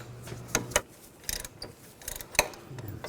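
A socket wrench with a 16mm socket ratchets out the rear brake caliper bracket bolts on a 2000-2006 BMW X5, giving sharp clicking ratchet bursts and metallic clanks, close and loud, with no talk.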